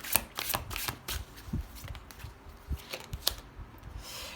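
Tarot cards handled and laid onto a spread, a series of soft close slaps, flicks and shuffling rustles at an irregular pace, quiet and without speech.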